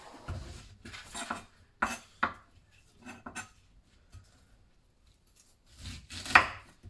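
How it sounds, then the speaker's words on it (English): A knife chops the ends off rhubarb stalks: scattered, crisp cuts come in short bursts with quiet pauses between them, close and fairly soft, with no talking. "So with rhubarb, I have all these, let's just call them shitty ends. Top and tail them."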